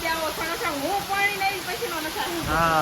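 A heavy monsoon downpour makes a dense, steady hiss throughout, with someone talking over it the whole time.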